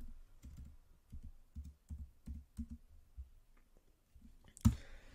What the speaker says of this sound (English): Type in this brand.